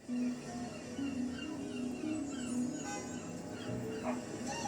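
A dog barks and whimpers at a distance, with short yips and whining cries scattered through steady outdoor background noise.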